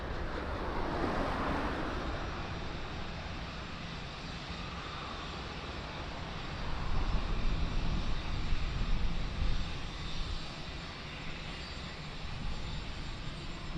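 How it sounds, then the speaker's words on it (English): Ryanair airliner landing at Lisbon Airport after arriving from Brussels, a broad steady engine roar with wind that swells louder midway as the plane comes close, then eases, with no talk. "Was Ryanair landing coming in from Brussels."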